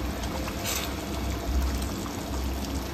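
Water poured into a simmering tamarind fish curry with small fish, a soft steady trickle and splash close by over a low continuous background hiss.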